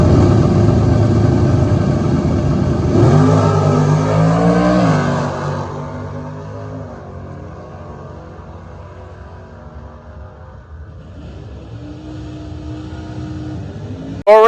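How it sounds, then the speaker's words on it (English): A loud Pontiac Grand Am drag car engine roars and revs hard as it launches down the strip, then drops off into a distant fading drone before a brief burst at the end. "Left lane, first pass for the year for Bill Little."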